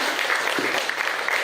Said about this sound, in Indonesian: mari kita beri aplaus kepada Bapak Kejari